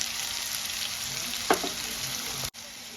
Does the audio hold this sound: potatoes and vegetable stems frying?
yes